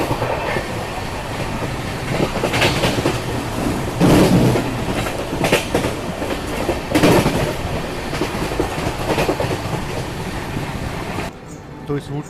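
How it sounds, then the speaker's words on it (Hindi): An Indian Railways train on the Gorakhpur to Varanasi route rumbles along with rhythmic clickety-clack of wheels over rail joints, loud and steady, with a few surges, as voices talk faintly under the din. "ट्रेन पहुंच चुकी है भटनी"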